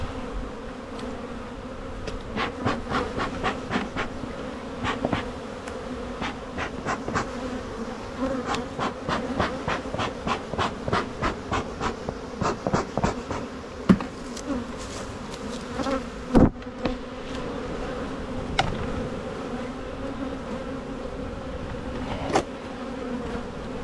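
Honeybees buzzing around an open hive during an early spring inspection, a steady droning hum with pulsing swells and a few sharp knocks from the hive equipment, close by and without speech.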